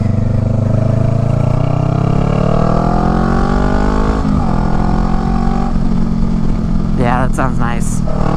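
Honda Rebel motorcycle fitted with a Shorty GP exhaust, decelerating with a loud, close, steady gurgling engine drone whose pitch slowly falls and then wavers, a rider's voice briefly audible near the end.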